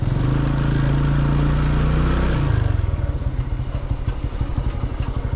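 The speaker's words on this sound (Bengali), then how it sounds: "আচ্ছা আমি তাহলে একটু হুইলি মারতে মারতে যাই আসো" A motorcycle is ridden in a wheelie stunt: a loud, close engine holds a steady drone, then drops into a fast throbbing pulse as the revs change.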